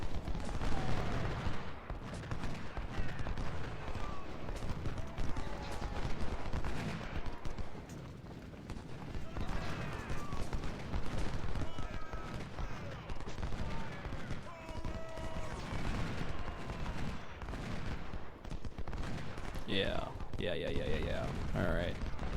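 Continuous rifle volleys from massed Civil War troops in Ultimate General: Civil War, firing at entrenched enemies at Corinth, form a dense crackling fusillade. Someone talks over the steady gunfire.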